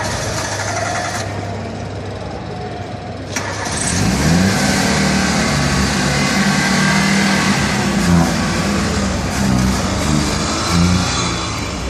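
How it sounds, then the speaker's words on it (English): A small Suzuki engine idles nearby at a car auction, then revs up loudly and holds a buzzy, high-pitched drone with slight rises and falls. "Sounds like a little Suzuki engine, that's for sure."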